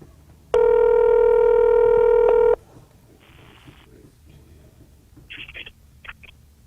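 Telephone line tones sound before a recorded phone call: a loud steady tone holds for about two seconds, followed by a fainter burst and several short quick dialing beeps.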